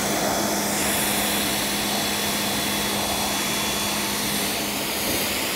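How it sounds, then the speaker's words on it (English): An AR Blue Clean 2050 electric pressure washer sprays tap water while a Corvette Stingray is washed, a loud, steady hiss with a constant motor whine, close and unbroken throughout with no talking. "If this is just regular tap water out of the AR Clean Blue 2050 pressure washer,"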